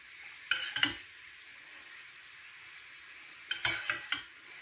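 Butter frying in a pan with tomato sauce added for a kebab dish, with two bursts of utensil scraping and clatter against the pan over a steady low sizzle.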